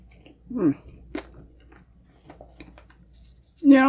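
Crunchy Red Ribbon honey crunch cake is chewed close up in a few sharp, crisp bites and crunches separated by quiet pauses, with a short vocal sound at the end.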